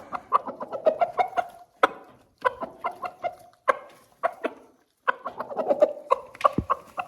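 Ameraucana chicks cluck and peep in quick bursts while being fed fresh grass, a lively close-up chatter of several birds with short pauses between flurries.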